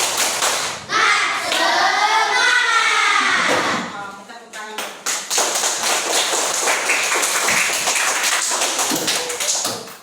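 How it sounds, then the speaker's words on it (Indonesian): A classroom of children performs a rhythmic clapping chant led by their teacher, with loud, repeated patterned claps and chanted voices, then continued clapping that stays steady to the end. "Ibu minta tepuk semangat dulu"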